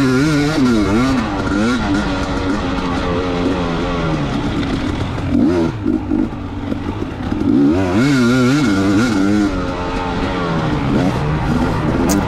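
Off-road racing motorcycle at a Mag 7 Sandy Clam GP race, its engine revving hard and dropping back again and again through shifts. It is loud and close, as if heard from on the bike, with steady mechanical clatter underneath.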